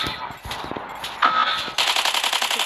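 Robot weapons firing in the mech combat game Mech Arena: scattered shots build into a loud, rapid, evenly spaced burst of automatic fire.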